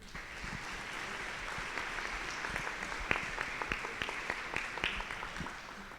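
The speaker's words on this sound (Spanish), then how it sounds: "Y lo recibimos con un fuerte aplauso." Audience applause fills a hall at a Jesuit panel talk: steady, dense clapping throughout with a few sharper, louder claps standing out near the end.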